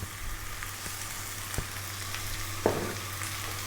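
Sweet and sour tofu stir-fried with soy sauce and black pepper in a pan gives a steady soft sizzle, with a few sharp utensil clicks and scrapes as the pieces are moved around.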